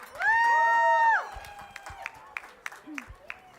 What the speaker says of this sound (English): let's give it up for these ladies. Round of applause, please.